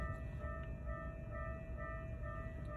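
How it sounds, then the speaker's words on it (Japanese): A railway level crossing at Takizaka, where an electric train passes nearby with a steady rumble while the crossing bells ring continuously in the background. "電車来るの早っ。"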